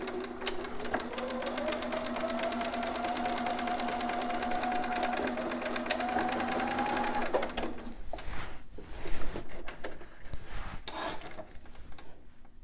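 A sewing machine back stitches fabric on a newborn romper with elastic, running steadily and fairly loud for about seven seconds with a rising whir, then stopping and leaving handling noises.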